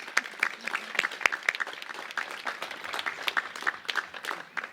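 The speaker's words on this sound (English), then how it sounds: "I think we need to give the mayor a round of applause" Applause for the mayor at a ribbon cutting ceremony marking a one-year anniversary, a crowd clapping steadily with sharp individual claps throughout, moderately distant and fairly quiet.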